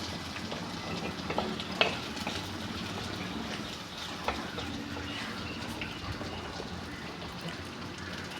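Shallots, garlic, ginger and green chili frying in hot oil, giving a steady close sizzle throughout with a few sharp crackles and light stirring sounds, no talking.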